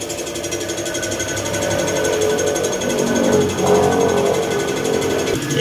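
A Yamaha Mio 115 scooter engine idling after a crankshaft refresh, a steady rapid mechanical rattle and chug running continuously up close, swelling slightly midway before a sharp change at the end.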